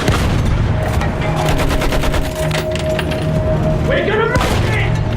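Battlefield 1 campaign battle with rapid gunfire bursts and machine-gun rattle under a dense wall of combat noise, a steady tone and shouted voices mixed in, ending with a descending whistle.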